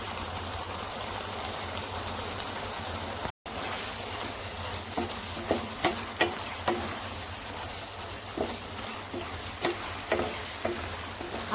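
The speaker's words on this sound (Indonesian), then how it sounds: "aduk kembali hingga rata dan kuahnya mengering" A seasoned dish with sweet and salty soy sauce, sugar and chicken stock fries and is stirred in a pan, giving a steady loud sizzle with a light bubbling undertone and repeated soft scraping strokes, with no voices.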